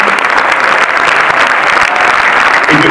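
A theatre crowd gives a sustained, loud ovation to the director and cast of the film Mon Garçon, including Christian Carion, Guillaume Canet and Mélanie Laurent, with many hands clapping in an even, continuous roar.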